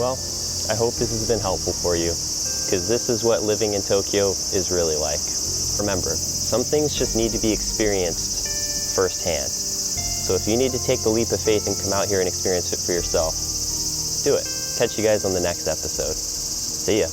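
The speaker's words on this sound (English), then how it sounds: "That is the sound of a cicada, and it is loud, and they're everywhere" Dense, loud cicada drone fills a Tokyo setting without a break, while someone talks steadily over it.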